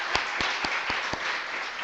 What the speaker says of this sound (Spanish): Vamos a darle un aplauso nosotros mismos